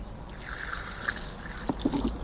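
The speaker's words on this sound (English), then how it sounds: "put a little bit of this water" Water is poured from a small container into a garden planting hole, making a soft close trickle with a few faint drips and splashes near the end, heard alone and quietly.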